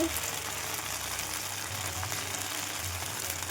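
Batter fries in oil on a flat pan with a steady, broad sizzle that carries on evenly throughout.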